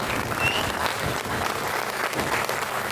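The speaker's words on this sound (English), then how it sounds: "another big round of applause for Mick there" Crowd at a protest rally against mass immigration at Stormont applauds a speaker, a dense, steady burst of outdoor clapping with some crowd noise, no talk over it.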